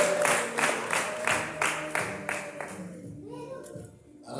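Rhythmic group clapping at a Rwandan wedding ceremony, steady beats over about three seconds that then fade into quieter murmuring and voices.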